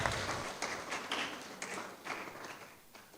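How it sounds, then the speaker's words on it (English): An audience claps at an academic humanities lecture, a steady crowd applause with dense overlapping claps that holds at an even level throughout. "A round of applause for our chair"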